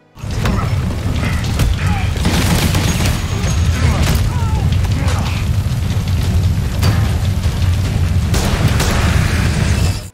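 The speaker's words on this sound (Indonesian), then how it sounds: "Cyrus ketakutan dan bom yang sudah dipersiapkan Joe meledak." Loud, continuous rumbling blast with booming low end and crackling bursts, sustained for several seconds like a large explosion amid a dramatic soundtrack.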